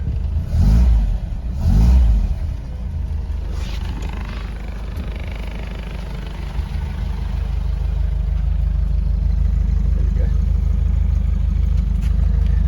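A cold car engine cranks twice with deep, chugging bursts, then catches and settles into a loud, rumbling idle that grows steadier and fuller, recorded close by.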